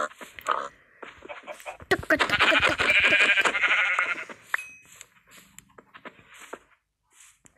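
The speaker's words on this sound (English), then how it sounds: "Wait, that was my only sheep?" A sheep bleats in the Minecraft SkyBlock video game amid sparse game effects, with a dense burst of sound mid-clip followed by scattered quieter clicks.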